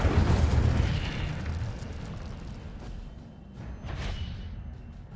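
Incendio fire spell cast in Hogwarts Legacy, a loud booming burst of flame with a rumbling roar that decays, followed by a second whooshing flare.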